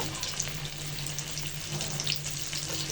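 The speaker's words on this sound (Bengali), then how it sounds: "আর এখন গরম তেলে চাপগুলো ছেড়ে দিব" Chicken chaap frying in hot oil over medium heat, a steady broadband hiss and crackle that holds evenly throughout, with a faint low hum underneath.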